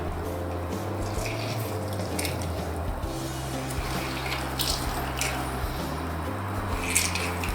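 A cheap 1.5-lira street-vendor lemon squeezer pressing a lemon, giving a continuous wet squishing and trickling of juice with faint clicks and a low hum, close and steady throughout.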